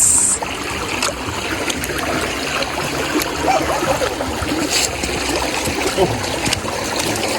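A shallow mountain river with mossy stones being crossed on foot on the walk to Sherabling Monastery in Bir: constant rushing, trickling water close by with occasional splashes and small clicks throughout.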